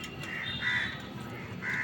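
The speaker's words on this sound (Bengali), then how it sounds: "কাক, কাক কোথায়?" A crow caws outdoors, two or three drawn-out harsh calls at moderate distance over faint background noise, with no talking.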